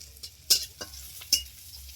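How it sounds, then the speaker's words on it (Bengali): Banana flower boils in a pot on a home stove for a Bengali mocha ghonto, a steady close bubbling hiss with a few sharp clinks and pops standing out over the simmer. "দেখো মোচাটা কেমন টকবক করে ফুটে উঠেছে"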